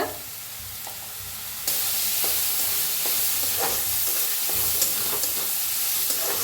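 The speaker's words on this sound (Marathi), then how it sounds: "बारीक असा कांदा कापायचा चांगलं भाजून घेऊया कांद्याला बी थोडंसं टाकूया हिंग" Chopped onion frying in oil with seeds and a pinch of asafoetida, a close, loud, steady sizzle that jumps louder partway through, with occasional light stirring scrapes.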